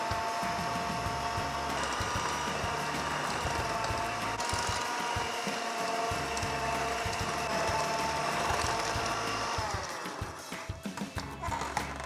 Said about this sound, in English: that's why I'm going with the hand mixer